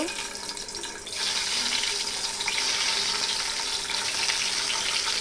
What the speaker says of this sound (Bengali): এখন আমি ডিম ডিমটাকে সুন্দর করে ভেজে নেব